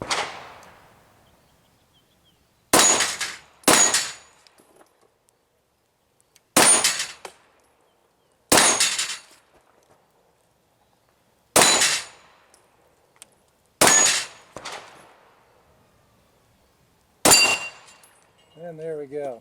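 Pistol shots from a Glock 34 and a Sig P320 strike steel targets at 12 yards. About seven loud, separate cracks each end in a brief metallic ring, with quiet gaps between and a voice at the end.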